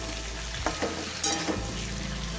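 Pumpkin, tomato and slit green chillies fry in a pan for a mixed vegetable curry, giving a continuous close sizzle broken by a few brief scraping stirs.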